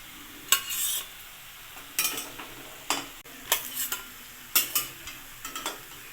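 Bitter gourd leaf fritters frying in oil give a steady low sizzle, broken by several sharp bursts of spatter and clatter as the pieces are stirred and lifted out.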